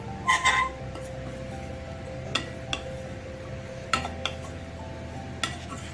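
Grated coconut is stirred as it roasts in a pan for karanji filling, with a metal spoon knocking and clinking against the pan now and then over a steady low hum of frying, near and moderately quiet.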